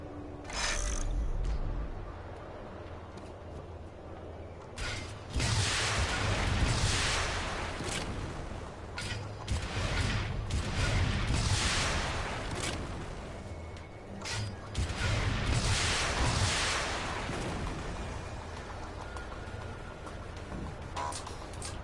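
Rocket launcher shots and explosions in the Red Faction Guerrilla video game come as repeated loud booming blasts with rumbling debris, several bursts spaced across a long stretch with no talking.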